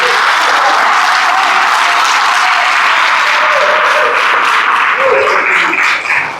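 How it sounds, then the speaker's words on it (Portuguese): Sustained applause from a church congregation at a Portuguese-language sermon, dense and steady for several seconds before thinning slightly at the end. "Dê uma salva de palmas então para Jesus."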